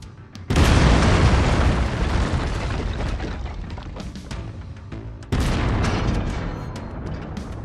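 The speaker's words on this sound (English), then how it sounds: "I've mapped the autocannon to Weapon Group 1. You're free to fire whenever you're ready." Heavy autocannon fire from a mech in MechWarrior 5: Mercenaries, a loud sustained booming barrage that kicks in abruptly, rolls on for several seconds, then surges again with a second heavy volley.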